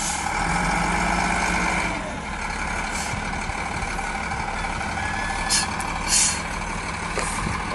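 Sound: road grader engine straining on a hump

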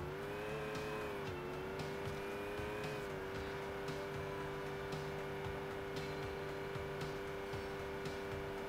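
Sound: out-of-control car skidding in video game Saints Row 2

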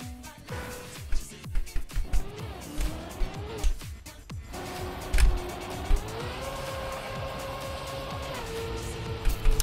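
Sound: car gears shifting as the car moves, from a video game

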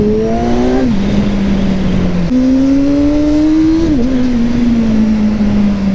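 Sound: powerful motorcycle riding

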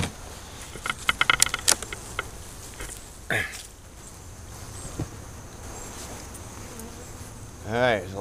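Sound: honeybees buzzing at open hive

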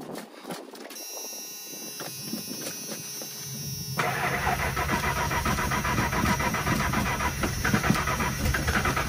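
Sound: truck engine starting

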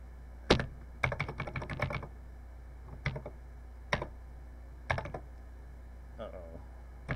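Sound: typing on a Texas Instruments TI-99/4A computer keyboard

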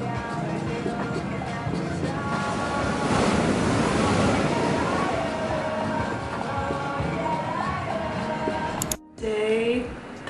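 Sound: ocean waves and surf

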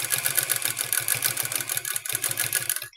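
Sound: sewing machine stitching a petticoat body

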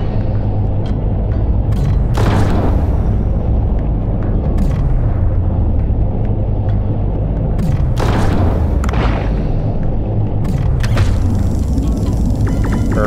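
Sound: shooting a fish in the video game Dave the Diver

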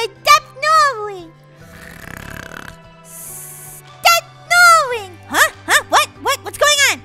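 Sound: snoring in Roblox video game

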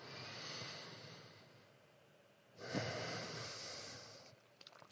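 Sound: deep breath taken during an EFT tapping exercise

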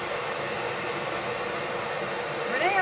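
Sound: cordless Ryobi electric dryer drying craft gnome

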